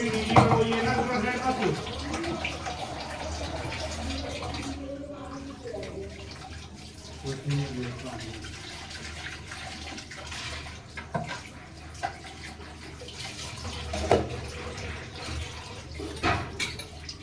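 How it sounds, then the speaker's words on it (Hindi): Dishes are washed under a running tap in a home kitchen, with steady water flow, occasional clinks of utensils and splashes, and someone speaking over it at times. "बर्तन साफ करेंगे अब हम"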